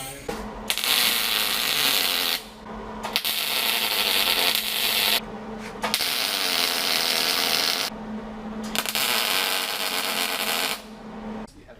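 MIG welder tacking and welding steel during a V8 swap on a Jeep Comanche pickup, with several sustained crackling, hissing bursts of a few seconds each separated by short pauses, loud and close.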